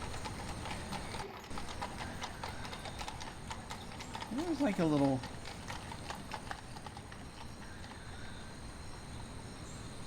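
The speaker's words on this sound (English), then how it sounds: "Can you also hear the horses? I can still hear the horses." Horses' hooves clip-clop on a road in the Gold Rush! adventure game, a short burst of distant hoofbeats and a whinny-like tone over steady hiss, with a voice speaking briefly.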